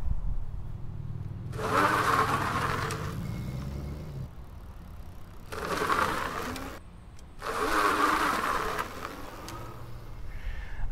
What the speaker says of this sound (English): In dual motor mode, that thing just flew up the hills.